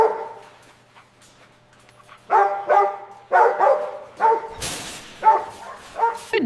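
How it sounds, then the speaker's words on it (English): Several dogs in an animal shelter bark in short, loud bursts that echo down a hall, starting after a quiet opening and continuing in an irregular volley. "The sound of dogs barking echoed all around us."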